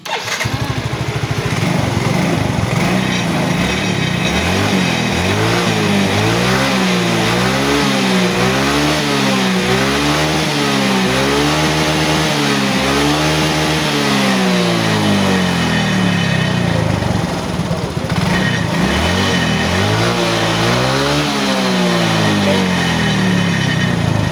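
A motorcycle engine runs steadily and loudly throughout, with repeated rising and falling revs in the middle stretch, then settles back to a constant idle-like drone near the microphone.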